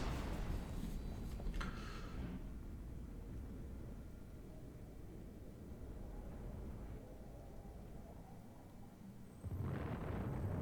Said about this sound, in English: That's 750 kilograms worth of explosives being dropped on that ship 3 times.